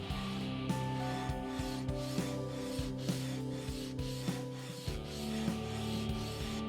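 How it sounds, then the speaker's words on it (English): A guitar fretboard being sanded with 220 grit sandpaper gives a steady close rubbing rasp in repeated strokes, over a low background hum. "I sanded the board again with 220 grit sandpaper."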